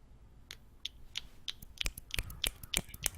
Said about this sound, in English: you do the snaps